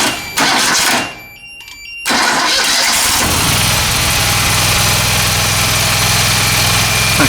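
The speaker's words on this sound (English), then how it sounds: "let's just give it a kick over" A Walker ride-on mower's small engine is kicked over with the choke pulled back, cranks briefly, then catches and settles into a loud, steady running drone close by.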